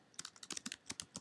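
Rapid, irregular clicks of a computer keyboard as Java code is typed, close and fairly quiet, with no talking.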